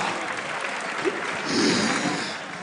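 Audience applause in a large hall at a live national quiz grand finale, a steady dense wash of clapping that swells slightly midway, heard alone without talk.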